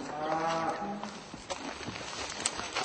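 Dairy cows used to concrete barn floors climb a steep mountain path to pasture at a farm in Pyeongchang, mooing repeatedly in drawn-out, close calls with some rustling between them.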